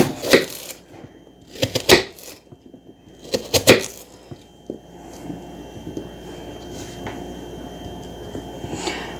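Half an onion chopped with a knife on a board at home while making dinner, sharp clustered bursts of cuts in quick runs, then softer scattered taps trailing off.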